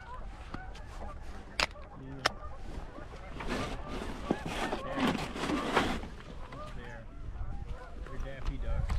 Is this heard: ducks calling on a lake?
yes